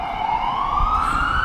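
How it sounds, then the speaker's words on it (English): An emergency vehicle siren in downtown San Francisco wails with a steadily rising pitch over low city traffic rumble, moderately loud and fairly close. "Hear the siren?"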